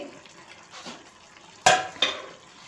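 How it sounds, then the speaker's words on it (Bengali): Small fish and potato curry is stirred gently in a pot, with soft scraping and two sharp clinks of a utensil against the pot over a quiet, low background. "আমি একটু নেড়ে দিচ্ছি, আলতো ভাবে একটু নেড়ে দেব"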